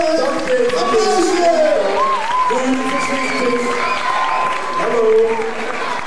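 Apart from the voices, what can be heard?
audience applause at scouting playback show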